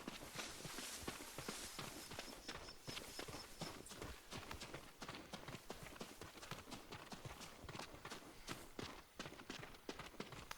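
Steady, dense clip-clop of a horse's hooves at a riding pace in the open-world samurai game Ghost of Tsushima, continuous and prominent throughout.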